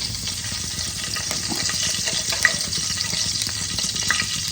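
Two bay leaves sizzle in hot oil in a Bengali kitchen, giving a steady, loud, close crackling hiss with small pops and no talk.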